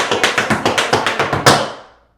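Tap shoes strike a hard floor in a quick, even run of about eight crisp, close taps, ending in a heavier accented stomp that rings out into silence.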